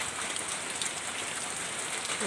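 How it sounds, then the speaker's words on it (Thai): Steady rain falls and patters on surfaces in a dense, even hiss with scattered drop hits, continuous and fairly close, no voices. "ฝนมาฝากอีกแล้วฝนเย็นสบายนะคะ"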